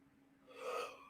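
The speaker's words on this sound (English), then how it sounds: "I just got to let the yawn come" A single long yawn from a person, swelling to a peak past the midpoint and then fading, close and fairly quiet, with breathy, gasp-like air.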